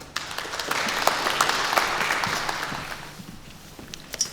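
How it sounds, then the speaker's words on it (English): Audience applause at a carers centre community event, a dense wash of clapping that swells, holds steady, then tapers off toward the end. "So big round of applause."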